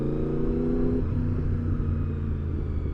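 A Honda VFR motorcycle engine runs while being ridden: a close, loud, steady rumbling drone that drops in pitch partway through, with wind rush underneath.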